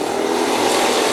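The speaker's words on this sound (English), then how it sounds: "Look at that, drafting down the front straightaway." Stock cars drafting together down the front straightaway at a speedway, a loud, close, continuous engine roar with a dense buzzing drone that holds steady across the brief moment.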